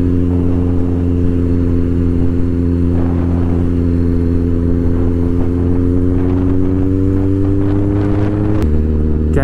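A motorcycle rides through Miami streets, its engine making a steady, loud, droning hum throughout. Near the end the pitch drops as if shifting gear, and no one speaks.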